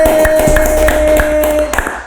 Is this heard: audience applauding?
yes